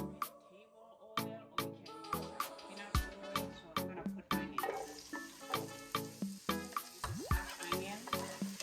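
Mushrooms sautéing in a pan for a bok choy stir fry, with a soft sizzle under steady rhythmic taps and scrapes of a utensil against the pan, repeating roughly twice a second.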